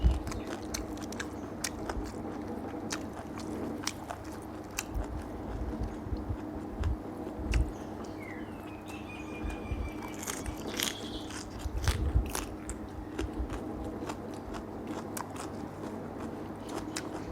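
Crunchy chewing close up of raw vegetables with Thai papaya salad, repeated crisp bites and munching in an irregular rhythm over a low background hum.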